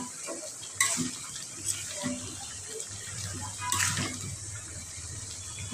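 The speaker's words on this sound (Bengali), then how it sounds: "মাংসটা একটু হালকা করে নেড়ে চেড়ে দেই" Meat frying in a pan with dried red chillies in a home kitchen, stirred gently: soft sizzling under intermittent scraping and clattering stirs, moderately close, with faint voices in the background.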